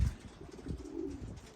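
Racing pigeons coo softly inside a loft, low throaty murmurs repeating over a quiet background, close and gentle.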